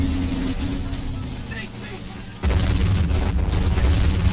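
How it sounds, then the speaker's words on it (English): Hummel artillery firing in Men of War, a sudden heavy boom partway through followed by sustained loud low rumbling, over a busy battlefield background. "Oh, Hummel's firing automatically."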